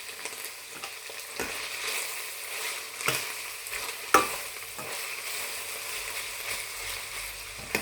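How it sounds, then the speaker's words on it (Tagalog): A stainless steel ladle scrapes and clanks against a stainless pan over a steady sizzle of ground pork and chayote, with sharp knocks scattered through the stirring, close and fairly loud. "Maingay itong sandok na ito eh. Maingay. Parehong stainless kasi eh."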